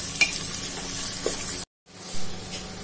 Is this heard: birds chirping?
no